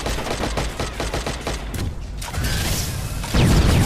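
Grenade launcher fire in Watch Dogs: a rapid burst of sharp mechanical shots and clanks, then a roaring boom-like swell at the end, loud and dense with no talking.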